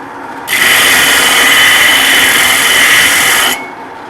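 A power sander grinds the flange of custom-fabricated zoomie headers for a blown small-block engine, producing a loud, steady, high-pitched whir that starts abruptly and holds for about three seconds before stopping.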